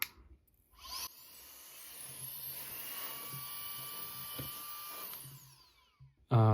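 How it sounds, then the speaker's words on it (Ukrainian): A homemade battery-powered turbo blower fan spins up, holds a steady high-pitched whine with airy rush for several seconds, then winds down, running on weak batteries; no talking. "Ось так вона працює. Зараз, на жаль, вона працює не на всю свою потужність, тому що тут погані акумулятори стоять."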